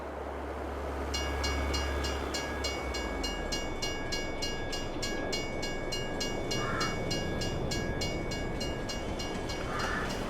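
A train arrives in the Farming Simulator 22 video game, its steady rolling rumble and rhythmic rail clatter filling the whole stretch, with a low engine drone at the start and a couple of brief higher tones near the middle and end.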